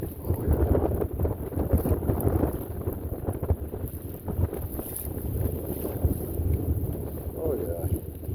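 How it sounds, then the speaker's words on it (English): Wind gusting by a lake, a loud, steady rushing roar buffeting the microphone near the water throughout, with a voice talking faintly in places. "Oh, look at the wind coming. See it in the trees too."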